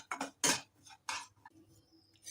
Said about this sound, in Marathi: रवा सारखा हलवत राहायचा, करपवू द्यायचा नाही